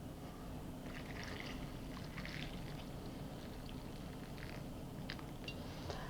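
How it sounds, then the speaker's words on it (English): Hot tap water runs steadily into a bowl of pearl onions, a soft continuous rushing with faint splashy flickers, fairly quiet and alone. "So place them in a bowl and cover with hot water from the tap."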